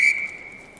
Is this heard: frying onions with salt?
no